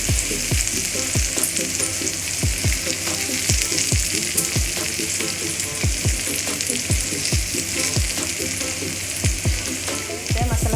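Curry leaves and masala frying in hot oil for a fish masala fry, with a loud, continuous close sizzle broken by regular scraping strokes of a spatula stirring the pan.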